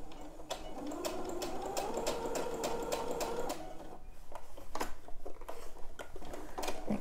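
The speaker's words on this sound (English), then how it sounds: "And stitch all the way over to the other side." Sewing machine stitching a long sleeve seam, running steadily for about three seconds with a rapid whirring hum, then stopping for a few sharp clicks and taps of fabric handling nearby.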